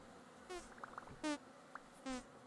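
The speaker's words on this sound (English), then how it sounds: "I don't like these bees." Three bursts of insect-like buzzing from bees in the game Vintage Story, each short and fairly loud, with fainter scattered chirps and clicks between them over a steady low background.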